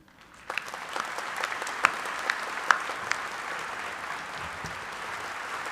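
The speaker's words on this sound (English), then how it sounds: "giving him a round of applause as he too graduates from Slippery Rock University" Audience applause at a Slippery Rock University commencement ceremony, beginning after a brief quiet moment and continuing as a steady, dense wash of many hands clapping, with a few sharper nearby claps standing out; no talking.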